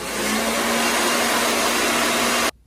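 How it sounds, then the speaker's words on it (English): Blow dryer running on a wig, a loud steady whirring motor drone held close for over two seconds before switching off abruptly. "And I'm gonna take my blow dryer."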